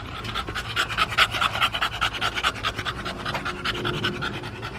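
An American Bully dog pants close up in a steady, quick rhythm of breathy huffs, with a faint scratching in the background.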